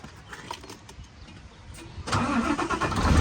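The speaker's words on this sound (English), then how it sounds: "Unless I need to start lorry up." A lorry engine cranks and catches after a quiet stretch of faint background clatter and birds, then settles into a loud, close, deep rumbling idle that grows stronger toward the end.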